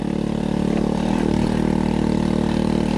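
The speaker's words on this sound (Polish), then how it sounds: "Wydech trochę dziurawy." A China Power 50/80 four-stroke scooter engine with a leaky, holed exhaust runs as a loud, steady, rasping drone close to the microphone, with no talk over it.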